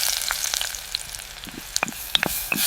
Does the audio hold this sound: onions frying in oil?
yes